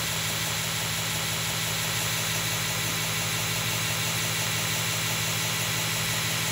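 A Jeremy Schmidt tilting belt grinder running with a steady, even mechanical drone and whine, continuous and unchanging at constant loudness throughout.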